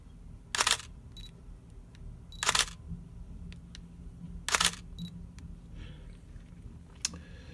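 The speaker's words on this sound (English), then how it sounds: "The camera shutter will work as soon as the subject of the shot in the focus." A camera shutter set to focus trap fires three times with sharp mechanical clicks, close and clear, with smaller faint ticks and a quiet room in between as the focus ring is turned on a lens without diaphragm control.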